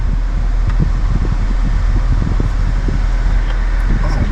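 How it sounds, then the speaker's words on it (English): Air conditioning fan blowing steadily inside the cabin of a 2025 Chevrolet 3500HD LTZ turbo diesel pickup, a loud continuous broadband whoosh with low rumble, no talk over it. "So if you hear this, the air conditioner"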